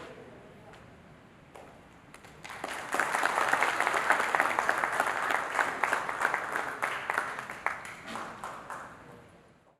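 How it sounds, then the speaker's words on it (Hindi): An audience at an event at the Marriott breaks into sustained applause after a presentation, many hands clapping loudly and steadily for several seconds before gradually thinning out. "Let's give a big round of applause for JLSM, Mr. Nathan Desai ji, for such a wonderful presentation."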